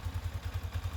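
Yamaha Sniper V3 motorcycle engine idling smoothly and quietly after a repair, a steady low pulsing beat repeating about nine times a second, close by, with no voices.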